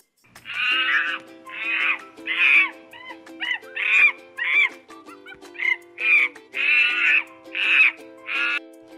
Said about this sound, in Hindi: ये मंकी है।